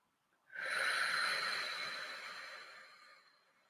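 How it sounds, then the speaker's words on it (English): A single long, audible inhale during a guided breathing exercise, swelling quickly into a soft, airy rush and fading gradually over about three seconds, close and alone without talk. "Deep breath in."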